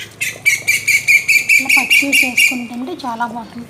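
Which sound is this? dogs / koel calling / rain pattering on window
koel calling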